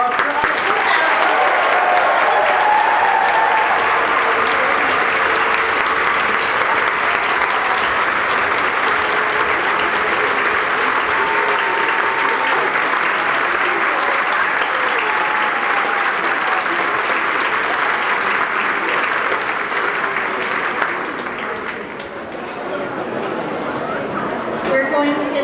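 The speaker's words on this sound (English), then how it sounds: "can we just get one more round of applause for our 2000?" Long, loud applause from a concert audience at an elementary school band and orchestra performance, steady and dense for about twenty seconds before cutting off abruptly into quieter room sound.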